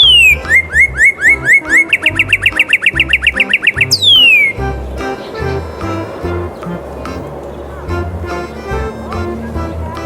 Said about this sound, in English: The male cardinal wears a bright red suit that makes it stand out like a little red gem in the trees.